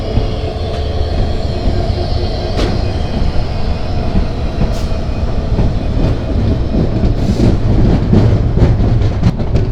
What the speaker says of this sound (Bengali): আমাদের ট্রেন আস্তে আস্তে কক্সবাজার রুটের দিকেই ঢুকে যাবে একটু পরেই